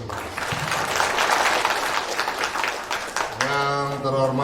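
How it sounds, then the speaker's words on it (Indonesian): An audience at a Buah Batu Corps community general assembly breaks into loud, dense applause for about three seconds before a voice starts speaking over the fading claps. "Semangat, aplaus untuk kita semua."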